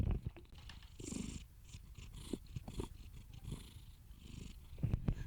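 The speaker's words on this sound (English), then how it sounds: "my cat is just looking at me and purring" A pet cat purring steadily at close range, a low continuous rumble with soft rhythmic pulses, alone without talk.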